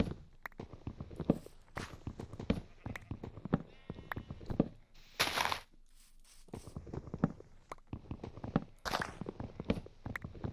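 Sheep bleat in the Minecraft video game amid blocky footstep sounds, with someone talking over the game audio.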